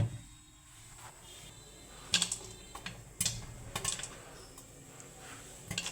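Popcorn kernels pop one by one in a covered pan, scattered sharp pops and taps building in density over a quiet background.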